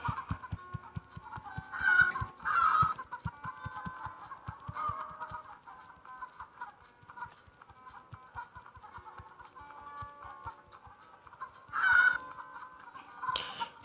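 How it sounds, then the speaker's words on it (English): Cartoonish chickens cluck steadily from the Egg Inc farming game, with several louder bursts of clucking and crowing standing out over a busy, rhythmic backdrop of game sounds. "Produce more baby chickens!"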